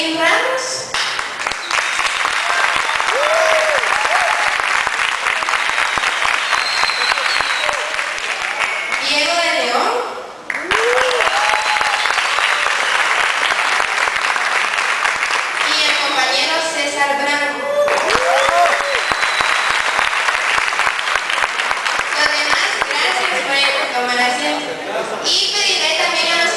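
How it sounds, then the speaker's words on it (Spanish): An audience at an election event applauds on and off, sustained clapping that swells and dips, with a voice speaking over it at times. "También denles un aplauso a ellos, por favor."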